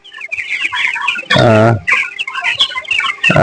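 Broiler chickens on sand litter keep up a dense, close chatter of clucks, broken by a loud drawn-out squawk in the middle and another starting at the end.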